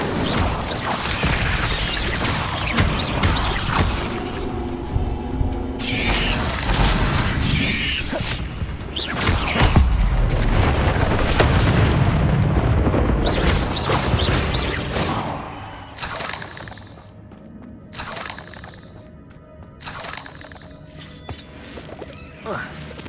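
An Incendio fire spell is cast in the Hogwarts Legacy video game inside a cave, a loud whooshing fiery burst set within dense, crashing game effects before things quiet into sparse clatters.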